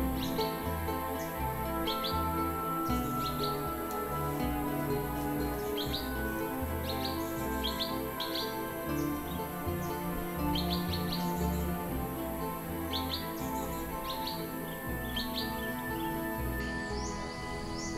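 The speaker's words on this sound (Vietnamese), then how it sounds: "thợ săn côn trùng bận rộn khác là những con chim xanh Nam Bộ" Blue-winged leafbird calling in a tropical forest, repeated short bright chirps at steady intervals over a constant humming background.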